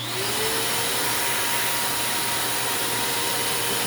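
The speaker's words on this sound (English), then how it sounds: "Oh, let's not forget our vacuum setup." Workshop vacuum dust extraction for a mini-mill grinding setup in a garage, a steady loud droning whine running continuously and unchanging, with no talk.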